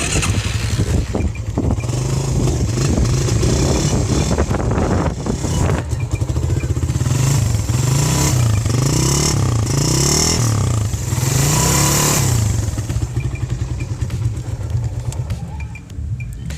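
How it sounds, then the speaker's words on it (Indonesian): A 2015 Suzuki Satria FU facelift motorcycle engine running steadily up close, with a smooth idle broken by several throttle blips and revs that rise and fall in a loose rhythm throughout. "Ini suara mesinnya masih halus banget, khasnya FU."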